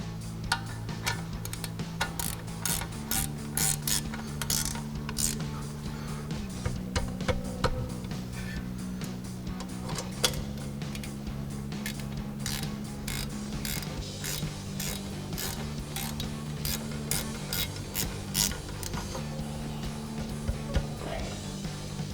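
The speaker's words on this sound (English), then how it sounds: "Now we'll bring back our 16mm ratchet wrench and tighten these back down." A 16mm ratchet wrench clicks steadily while tightening brake caliper bolts on a 2020-2026 Silverado 2500 during a brake rotor and pad job, a rapid series of close, crisp ticks over a low hum.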